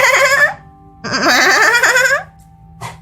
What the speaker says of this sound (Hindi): तभी उसे बकरी की मैं की आवाज आती है।